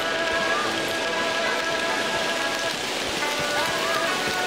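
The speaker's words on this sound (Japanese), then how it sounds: "急に雨降ってきた。" Steady rain falls in the video game Shenmue 3, a dense even hiss of drops across the whole stretch with no break, loud and close, with no talking.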